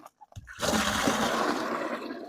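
Water draining from a concrete mixing tub through a PVC drain and ball valve into a bucket: after a few faint clicks, a sudden steady gushing rush of water begins and continues, close and fairly loud.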